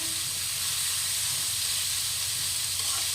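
Onions fry in a pan until golden brown, giving a constant loud hiss and sizzle that holds steady throughout without pause.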